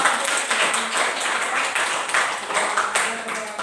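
Students applaud in a classroom, a steady wash of many hands clapping at moderate level that runs throughout with a voice or two mixed in.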